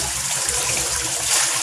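Liquid beneficial bacteria is poured into pond water, making a loud, continuous close splash and gurgle that lasts throughout.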